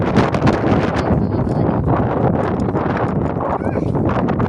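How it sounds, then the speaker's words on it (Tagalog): Strong wind roars steadily across the microphone throughout, a loud, continuous buffeting rush with a muffled voice faintly beneath it. "Lakas ng hangin."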